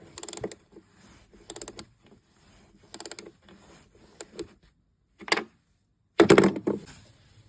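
A stiff Torx T30 bolt being undone with a socket on the sliding door step of a 2018 Mercedes Sprinter van, heard as a series of short mechanical clicks and creaks in bursts, then a louder final rattle.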